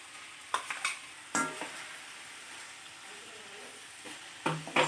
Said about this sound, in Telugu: ఇలా మధ్య మధ్యలో బాగా వేయించుకుంటూ ఉండాలి ఇలా దొండకాయ బాగా మగ్గింది ఇప్పుడు ఉల్లికార వేసుకుని కలుపుకోవాలి